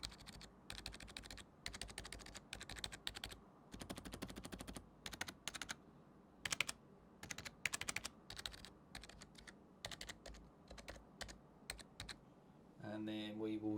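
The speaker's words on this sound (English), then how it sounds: "hold it next to the keyboard and press some buttons to get a little sound test for you" Keys on a SteelSeries Apex 3 TKL gaming keyboard are pressed in quick bursts of soft, close clacking with short pauses between runs, and a muffled rustle at the end.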